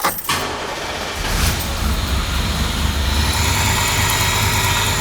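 A vehicle engine cranks and fires, then settles into a steady, fairly loud idle that continues to the end, heard close with no talking.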